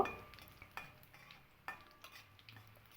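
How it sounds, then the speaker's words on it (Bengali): A bay leaf, dried chilli and panch phoron tempering fries in a little oil. Faint, quiet sizzle broken by a few light stirring scrapes and taps of a spoon on the pan, no talking. "আমি কয়েক সেকেন্ড সময় নিয়ে ফোড়নটাকে কিন্তু খুব ভালো করে ভেজে নিয়েছি"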